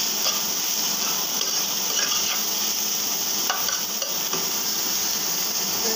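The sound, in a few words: onion and radish greens frying and being stirred in a pan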